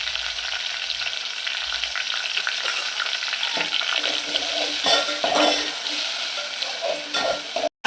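Ginger garlic paste sizzling in hot tempering oil with chopped tomato, a bright crackling fry held close with stirring scrapes and a few spatula knocks, ending abruptly.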